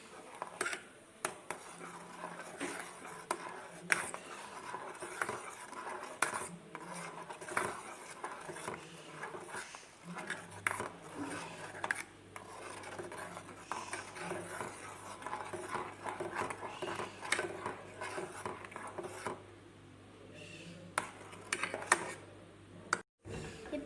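Cocoa powder mixture stirred in a pan, a steady run of light scraping and clinking of a utensil against the pan, close and continuous, with a low hum entering partway through.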